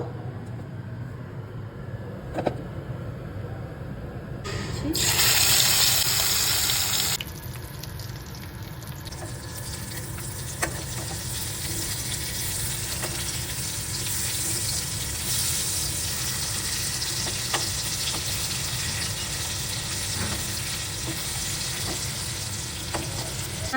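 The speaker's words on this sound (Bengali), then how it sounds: "তেল চিকেনটা ম্যারিনেট হয়ে গেছে এবার আমি ফ্রাই করে নিব" Marinated chicken frying in hot oil for butter chicken, a steady loud sizzle running throughout with a brief hissing surge as pieces go in, occasional stirring clinks, no talking.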